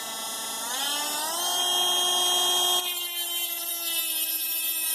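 Dremel rotary tool spinning at 25,000 RPM as it grinds brass, a steady high-pitched whine that rises in pitch over the first second, holds loud and close, then dips slightly in level partway through.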